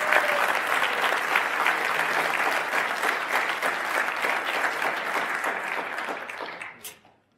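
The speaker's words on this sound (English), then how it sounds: "please, let's welcome them to the stage, and big round of applause" An audience applauds a speaker being welcomed to the stage, a full, even wash of clapping that holds steady for several seconds before quickly dying away.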